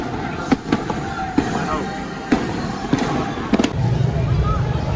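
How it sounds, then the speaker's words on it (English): Fireworks burst at Walt Disney World, a series of sharp, distant-sounding bangs scattered irregularly over a constant crowd murmur, with people talking nearby. "With the fireworks going on"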